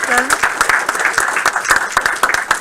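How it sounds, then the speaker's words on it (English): A room full of people claps for a team at a build review, giving sharp, uneven hand claps that stay close and loud, with voices chattering through the applause. "Another round of applause for everybody."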